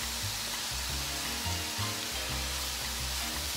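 Drained, rinsed canned black beans fry in a pan while being stirred, a soft steady sizzle with a low hum beneath, fairly quiet.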